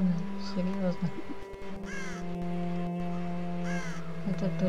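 A crow in the Child of Light video game caws twice in harsh bursts over sustained game music, with a person talking intermittently.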